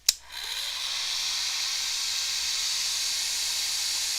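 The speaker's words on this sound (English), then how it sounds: "Let's get the dryer." A hair dryer clicks on and blows over a watercolor cityscape painting, a sharp switch-on click followed by a steady, loud airy hiss and motor whir held constant to the end.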